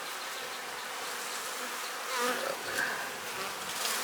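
Honey bees buzzing thickly around an open hive frame while a beekeeper works the colony in bad weather, a dense, continuous hum with a few louder passes of individual bees close by.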